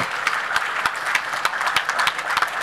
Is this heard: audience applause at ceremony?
yes